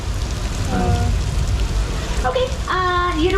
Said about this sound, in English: normally at this point in the tour, this is where they turn off the rain effects